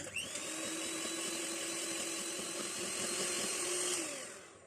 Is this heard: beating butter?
yes